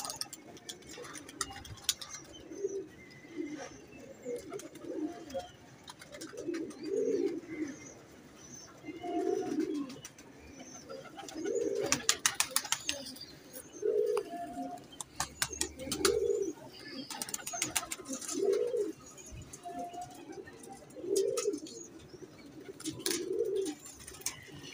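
Kamagar pigeons, including a female, give soft, rhythmic cooing phrases repeated every couple of seconds at close range, with scattered light ticks and clicks between the calls.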